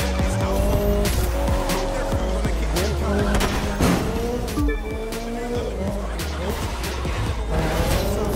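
Car tires squeal and skid during a race in The Crew, with a Mazda RX-7 and MX-5 among the classic cars, under a loud, steady engine roar with repeated screeching bursts throughout.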